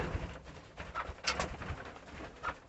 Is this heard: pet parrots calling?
yes